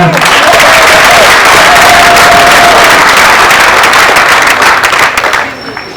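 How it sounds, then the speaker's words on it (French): Audience applause fills a hall at a gathering of tax agency staff and executives, dense and sustained for several seconds, with scattered cheering, before tapering off near the end. "Donc, applaudissez pour vous."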